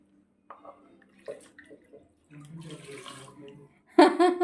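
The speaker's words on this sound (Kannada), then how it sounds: "ಇದಕ್ಕೆ ಐದು ಕಪ್ ನೀರು ಹಾಕೊಳ್ಳಿ" Water pours into an old iron pot for about a second amid scattered clinks and handling noises, followed by a louder splash at the end.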